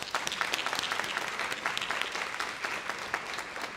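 Banquet audience applauding an award recipient, dense steady clapping from many hands in a room, moderately loud and continuous without speech.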